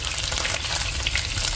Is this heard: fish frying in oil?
yes